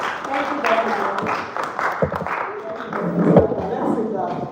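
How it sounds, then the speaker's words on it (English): Audience clapping at a school pathfinder event, heard as a steady wash of many hands clapping throughout. A few louder claps stand out near the end. "So, clap."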